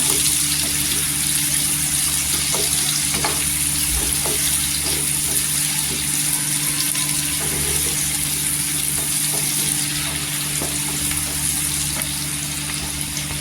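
Spices fry in hot oil as a tempering for stuffed brinjal, sizzling and crackling steadily, a continuous hiss with occasional pops and no talking.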